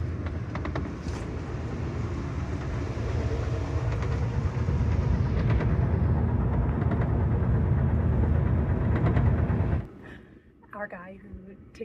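A long-distance passenger train rolls along its rails near Bonners Ferry, a loud continuous rumble and rattle that cuts off abruptly near the end, followed by quieter interior sounds.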